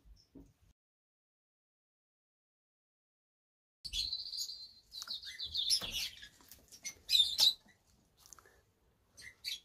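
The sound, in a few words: white-cheeked turaco bird calling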